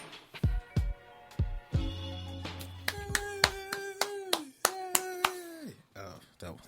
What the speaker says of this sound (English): That was me clapping.